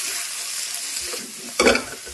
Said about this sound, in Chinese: 大火爆炒。